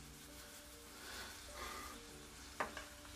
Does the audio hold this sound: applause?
no